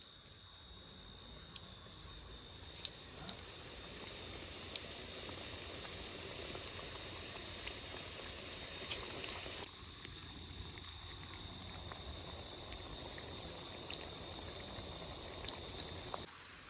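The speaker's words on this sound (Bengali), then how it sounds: "তো ছাতি ধরে এখন চপ ভাজা হচ্ছে" Egg chops, boiled egg wrapped in potato and coated in gram-flour batter, fry in hot oil outdoors on a rainy evening. A continuous bubbling, hissing fry runs at an even level for about seventeen seconds, with no voices.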